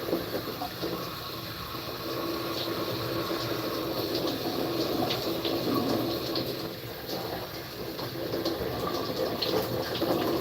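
Water runs steadily while hair is saturated and rinsed on wash day, a continuous rushing spray with small splashes, close and moderately loud, with no talk.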